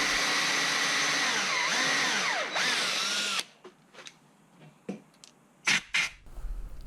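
Power drill boring holes in a wooden jig during a stair tread repair, a loud close whine for about three seconds with the pitch dipping as the bit bites, then stopping, followed by scattered knocks and clatter.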